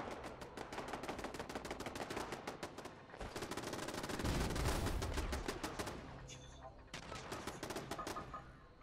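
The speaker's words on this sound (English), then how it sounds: "these turrets will take them out very easily" Turrets in Fallout 76 fire on incoming liberator robots at the Charleston Landfill workshop: rapid bursts of automatic gunfire, dense and loud, with a heavy rumbling stretch midway and short pauses between volleys.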